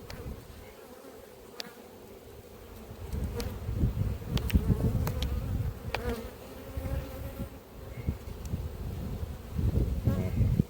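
Honeybees swarm and buzz around an open hive in an apiary on a hot day, a dense steady drone close to the microphone with individual bees whining past, while a voice speaks quietly beneath.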